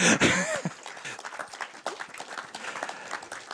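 Audience applause at a German film event in Frankfurt, a loud opening burst that eases into steady, scattered clapping with some voices mixed in.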